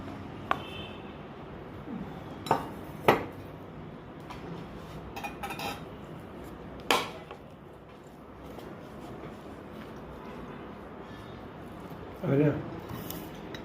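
Cutlery scraping and clinking against a plate while eating Kerala-style egg roast, with a few sharp clinks scattered over a steady low background, close and fairly quiet.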